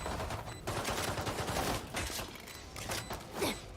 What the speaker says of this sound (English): Shots flying through.